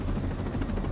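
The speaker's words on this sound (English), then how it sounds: "Hey, Thanatos, stay in the chopper." Helicopter in Ghost Recon Breakpoint gameplay, a dense, steady rotor and engine roar close by, filling the moment with constant low rumble and no speech.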